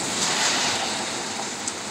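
A fast-moving car ploughs through a rain puddle on a stormy road in El Sombrero, Oaxaca, throwing a loud, continuous rushing hiss of spray with no voices.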